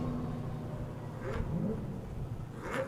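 A purple and green Chevy Corvette drift car of about 1,000 horsepower roars at an LS Fest drift event, with a steady engine rumble and two brief rising revs, heard from the chase position at moderate distance.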